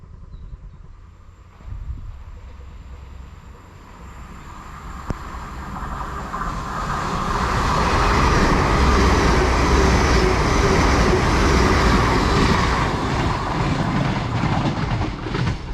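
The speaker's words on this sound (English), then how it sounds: "passing through now, we've got an LNER service to Lincoln Central from London King's Cross" An LNER passenger service bound for Lincoln Central from London King's Cross runs through a station, its rumble swelling from a quiet approach into a loud, sustained roar of wheels and carriages that holds steady to the end.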